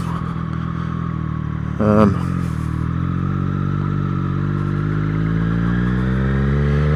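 A Triumph Street Triple 765 motorcycle engine idling steadily and loudly close by, with a brief clattering rise partway through before it settles back into a smooth, even hum.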